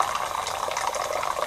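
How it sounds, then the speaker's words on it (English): Hot water pours steadily into a container, a close, continuous splashing rush without pauses or voices. "We're going to fill it with hot water."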